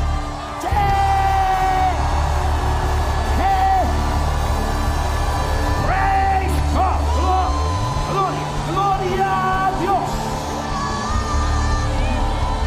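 A large church congregation shouts and yells together in a sustained roar during a worship service, with music and voices ringing through a reverberant hall.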